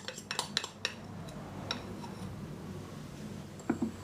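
A spoon scraping cake batter from a bowl, a series of quick metallic clinks and scrapes at the start and end over a quiet room background, close and moderately soft, no talking.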